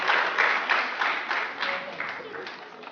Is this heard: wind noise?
no